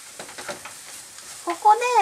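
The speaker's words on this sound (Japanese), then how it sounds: "玉ねぎが透き通ってくるくらいまで炒めたいと思います" Onion, carrot and cabbage core stir-frying in a pan for a milk soup pasta, with soft scraping stirs and light sizzling, a few brief bursts of louder clatter near the end.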